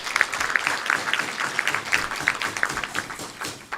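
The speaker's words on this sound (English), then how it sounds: "a round of applause for your work in that space" Audience applause at a Rotary Club of Tucson meeting, a steady wash of many hands clapping close by with scattered sharper claps standing out, sustained for a few seconds.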